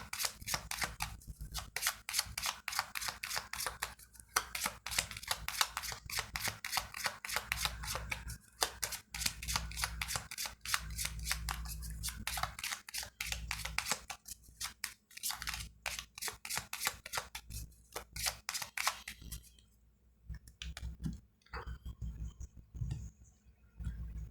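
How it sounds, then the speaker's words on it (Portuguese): Gypsy oracle cards are handled and shuffled up close in quick, rapid flicking riffles, a dense patter of papery snaps with short pauses, fading toward the end. "Vamos abrir agora o baralho cigano."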